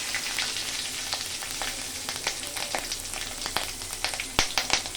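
Panch phoron, chillies and bay leaf frying in hot oil in a kadai, giving a steady close sizzle broken by frequent sharp pops and crackles, with no voices.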